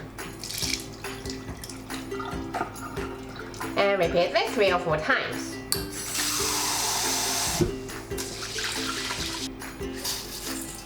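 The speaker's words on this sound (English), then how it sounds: "Let's rinse the rice first." Tap water runs while Japanese rice is rinsed for corn rice, a steady splashing rush mid-clip with stirring and draining sounds, under a voice giving cooking instructions.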